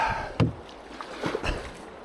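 Paddle strokes from a canoe on the River Wye in October, a few soft splashes and wooden knocks spaced irregularly over quiet water, close by.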